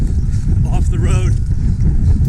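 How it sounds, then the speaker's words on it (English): Strong wind buffets the microphone on an open greenway beside a road during a running race, a steady low roar that never lets up, with a faint voice rising briefly through it. "as windy as anything, as you probably can hear"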